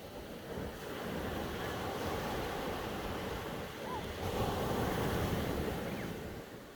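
Ocean surf at Riviera Beach, Florida, gives a steady broad roar of breaking waves, with gusts of wind against the microphone.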